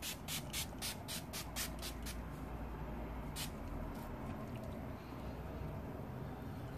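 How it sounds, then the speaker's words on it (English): Wet n Wild setting spray is misted onto a face in a quick run of about eight sharp, close hissing pumps, followed after a pause by one or two more sprays. "So I'm gonna go ahead and spray that in."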